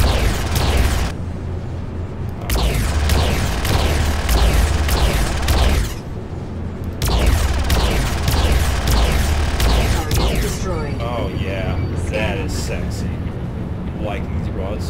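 Ship weapons on a Broadsword in Star Citizen fire in repeated rapid volleys, two long bursts of loud booming shots separated by a brief pause, then lighter mechanical sounds, with someone talking over them.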